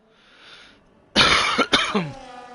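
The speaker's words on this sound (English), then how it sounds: "Sorry if I'm coughing and spluttering, I'm not very well." A man who is unwell gives a few harsh, close coughs and throat-clearing splutters, after a faint murmur at the start.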